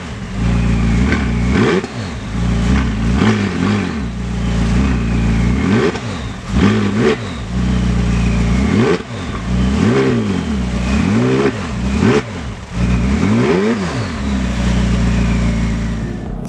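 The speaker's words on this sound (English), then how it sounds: "you can see it's also been given a top exit exhaust system that sounds a lot more aggressive" A 2019 McLaren 600LT with a top exit exhaust revs hard and repeatedly, its engine climbing and dropping in a steady series of loud, close blips.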